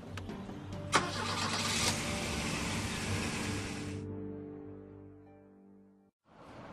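A car engine cranking but failing to start: a steady churning whir runs for several seconds, thins out, then cuts off abruptly, with no voices.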